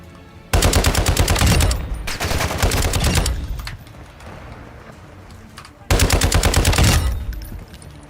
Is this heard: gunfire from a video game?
yes